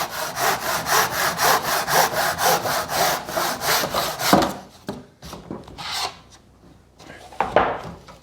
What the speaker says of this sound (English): I like to use a handsaw, an old handsaw for this. We have enough of those. And I'm going to cut the lines out.